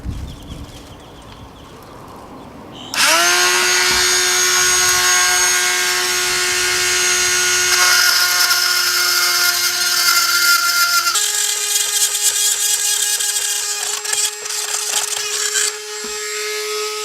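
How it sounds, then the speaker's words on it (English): A power cutting tool grinds and shaves fiberglass on a boat during vent installation, starting abruptly with a loud, sustained high whine that shifts pitch midway and runs steadily close by. "It's a cutting tool, and it'll shave off the fiberglass."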